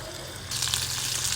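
Pieces of marinated fish dropped into moderately hot oil burst into a loud, steady sizzle that rises suddenly partway through and keeps hissing close up.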